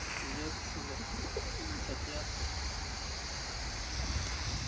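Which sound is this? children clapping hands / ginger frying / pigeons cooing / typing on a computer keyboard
pigeons cooing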